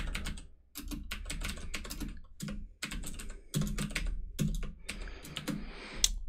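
Keystrokes on a computer keyboard tap out in quick irregular bursts with short pauses between them, close and fairly quiet, with no talking.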